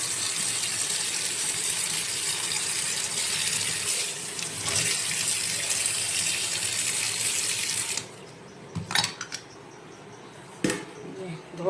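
Cucumbers and raw mangoes are washed under a steadily running tap, with rushing water for about eight seconds, then the water stops and a few handling clunks and splashes follow.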